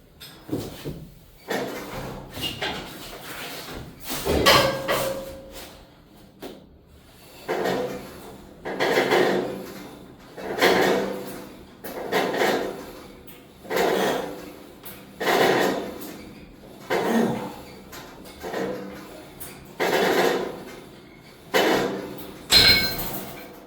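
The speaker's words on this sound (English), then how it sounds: "Now I've got 150 pounds on the pin to go ahead and do our lat raises with" A 150-pound weight stack on a gym lat raise machine clanks in a steady rhythm, about a dozen regular metallic knocks and thuds spaced a couple of seconds apart, close and fairly loud with no talking.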